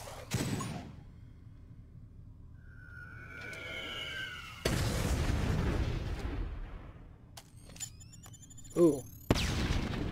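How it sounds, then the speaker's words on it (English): Grenade blast and hand cannon shots in the video game Atlas Reactor: broad booming bursts near the start and middle, a sharp crack near the end, with brief voice exclamation and whistling game effects between. "so he does grenade and then hand cannon"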